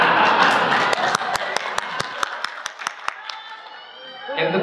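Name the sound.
audience clapping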